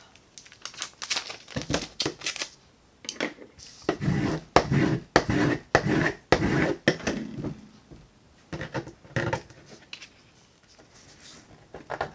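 Cricut transfer tape crackles and crinkles as it is peeled off vinyl in a spring Easter craft project, with loud, close, irregular bursts and short pauses between them, and no speech.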